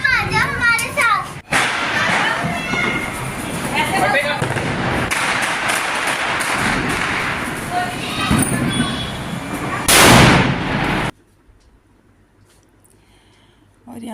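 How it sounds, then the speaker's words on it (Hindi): Large firecrackers going off during Diwali celebrations, sharp loud bangs and thumps scattered among children's chatter and nearby voices, with a bright burst near the end before the sound cuts to quiet. "ये कुछ पटाखे थे बड़े बड़े जो छत में बहुत तेज़ आवाज़ कर रहे थे"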